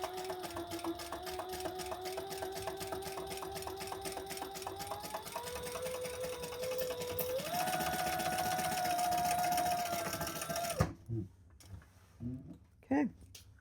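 A sewing machine bastes a zip around a travel wallet, its motor running in a steady rapid stitching drone that rises slightly in pitch for about eleven seconds before stopping, followed by a few short handling clicks.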